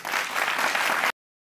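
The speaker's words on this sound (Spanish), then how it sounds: "pido para ellos un fuerte aplauso." Audience applause at the inauguration of a workshop and IT centre in Araira, Miranda State: a dense, steady burst of many hands clapping that cuts off abruptly after about a second.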